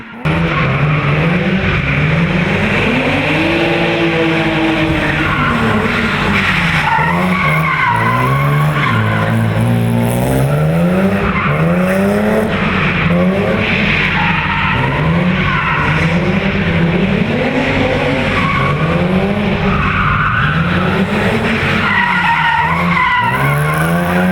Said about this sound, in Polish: Najgłośniejszym zaś z pewnością było darcie opon w pokazach samochodowego driftu.